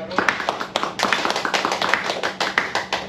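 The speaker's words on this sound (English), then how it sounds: "If you think Adriel, who is no longer masked, is doing a good job." An improv comedy audience gives a round of applause at a live show, steady crowd clapping and tapping filling the moment, moderately loud with a voice speaking over it.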